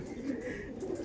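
A female pigeon, an ordinary regular bird at a loft sale, gives a low soft coo with a murmuring tone, close by and continuous for a brief moment.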